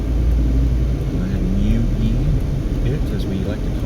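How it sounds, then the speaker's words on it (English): Cars passing on a road in east Las Vegas give a loud, low rumble of engines and tyres that swells and fades, with someone talking over the traffic noise the whole time. "Go ahead and wait for these cars to go by"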